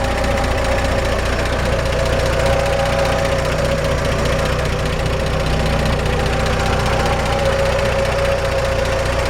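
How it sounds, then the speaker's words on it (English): A 1947 Chevrolet 3100 pickup with a solid-lifter 216 inline-six idles steadily up close, a loud, even engine hum with a fine rapid ticking of the valve train running throughout, no voices. "This is the sound we're looking for in a solid lifter 216"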